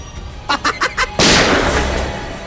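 A quick string of four sharp gunshots pops out, followed by a loud, booming blast that rings and fades away.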